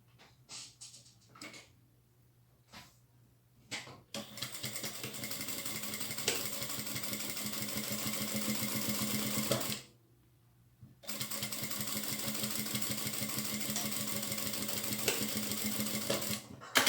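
A sewing machine runs steadily along the side seam of a small fabric zip pouch, a close, dense whirring stitch that starts after a few brief taps, stops for about a second, then resumes just as loudly until the end.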